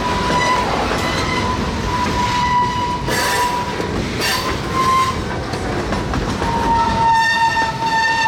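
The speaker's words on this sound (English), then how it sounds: "the PO74 pulls back onto the main and ahead of the crossing to let traffic clear up" Alco diesel locomotives on the Pocono Main move a train, the engines rumbling loud and close while the horn sounds in several long blasts over the steady roar of the rolling cars.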